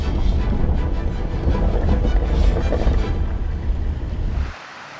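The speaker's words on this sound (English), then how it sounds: "the waterfall is flowing beautifully" A waterfall flowing at a snowy Ozarks campsite, heard as a loud, steady broadband rush of falling water with faint wind, cutting off abruptly just before the end.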